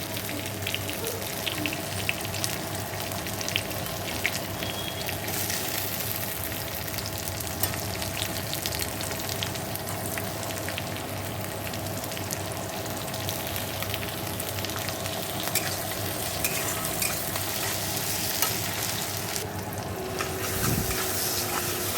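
Garlic, ginger and chopped tomato fry in a pan with a steady, moderately loud sizzle that holds for a long stretch. Faint running water and occasional stirring sit in the background.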